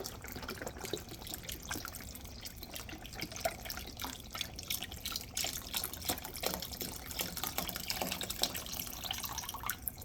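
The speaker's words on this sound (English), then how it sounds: "I'm going to add the chicken soup now." Organic chicken soup pours into a cooking pot in a continuous soft liquid trickle and splash, steady and fairly faint for about ten seconds.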